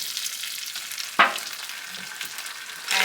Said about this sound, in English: so now this here is going to saute on medium-high heat for about 5 minutes